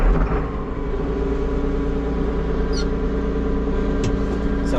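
A tractor engine runs steadily at a low, even idle as it warms up before discing a wheat field. The rumble is close and constant, with a faint chirp or squeak over it now and then.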